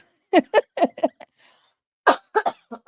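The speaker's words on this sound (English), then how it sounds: "I'm still coughing" A person coughs in two quick bursts of several harsh, closely spaced coughs each, close and clear, with a short quiet pause between the bursts.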